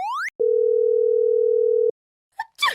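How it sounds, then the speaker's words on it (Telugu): An electronic telephone tone sounds: a brief rising sweep, then a long steady single-pitched tone for about a second and a half, followed by a few short chirps and a burst of noise. "మాస్టర్ ఫోన్ ఇంకా రింగ్ అవుతుందంటే ఫోన్ పేలలేదన్నమాట."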